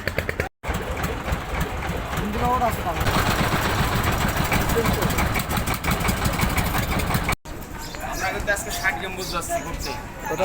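A boat engine drones steadily throughout, a continuous mid-pitched rumble, while people talk over it.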